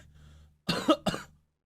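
Two quick, close coughs in a row, with a throaty rasp, after a moment of near silence.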